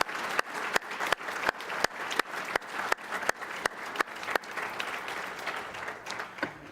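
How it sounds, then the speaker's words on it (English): A university awards-ceremony audience applauds Presidential Award winners, a full, sustained wash of clapping with loud sharp cracks recurring in a regular rhythm through most of it, tapering slightly at the end. "one more final round of applause for our Presidential Award winners."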